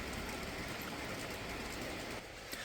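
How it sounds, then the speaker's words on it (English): A model railway train runs past on a layout, a steady, broad rumbling rush with light clicking that holds loud and close throughout, with no talk. "the trains passing at that level are part of the"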